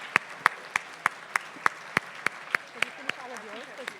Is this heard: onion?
no